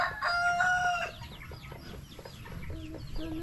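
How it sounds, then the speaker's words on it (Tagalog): Chickens cluck and a rooster crows near a chick coop being roofed, a drawn-out crow early followed by repeated short clucks close to the microphone. "Yan yung mga ibang manok namin dito guys"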